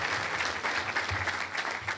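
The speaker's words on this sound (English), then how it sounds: "Let's give a round of applause." Audience applause at a City Club event in Chicago, a steady dense wash of many hands clapping at a moderate distance for the full two seconds, with no talking over it.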